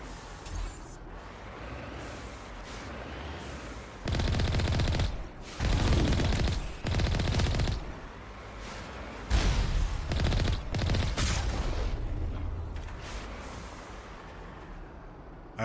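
Gunfire in the Mass Effect video game, heard as several loud bursts of rapid automatic fire separated by quieter gaps, with a sharp crack at the start of each burst.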